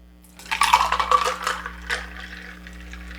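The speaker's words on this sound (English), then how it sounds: "We're just going to pour the same old, what they call a dirty dump." An Irish Buck cocktail made with Paddy's Irish whiskey is dumped with its used ice into a glass, giving a close burst of splashing and clattering ice that tapers into light trickles and drips.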